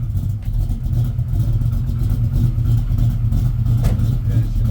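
An old car's engine runs close and loud with a steady, deep rumble that holds level throughout, with no clear revving.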